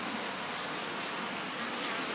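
Honey bees buzzing at a hive entrance in a beekeeping yard, a dense, steady, close drone of many wings with no pauses and no voices.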